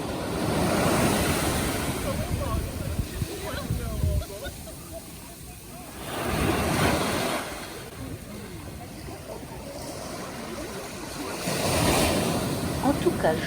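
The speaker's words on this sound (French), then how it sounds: "Ce jour-là, il y avait une mer absolument déchaînée. La prudence fut de rigueur car les vagues étaient violentes ainsi que le courant." Violent surf crashes onto Grande Anse beach in Guadeloupe in rough sea with a strong current. Three big waves break and roar in slow, regular surges over a constant loud wash, with wind buffeting the microphone close by.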